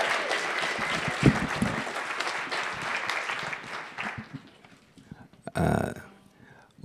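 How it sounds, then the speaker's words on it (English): A lecture hall audience applauds warmly for about four seconds, the clapping thinning out before a brief burst of voice and a short noise near the end. "Give her a round of applause"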